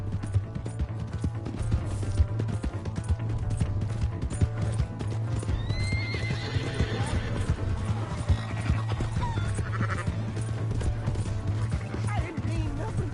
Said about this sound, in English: Oh, Lord, hey, that's my horse!